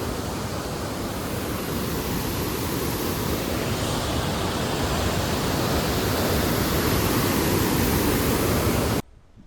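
Rushing water flows steadily at Gajoldoba, a loud, broad and constant roar close by with no voices, cutting off abruptly near the end.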